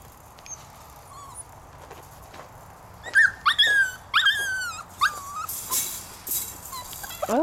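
Puppies yip, whimper and growl close by in a home: quiet at first, then a lively run of high, squeaky yelps and whines in quick bursts over the last few seconds.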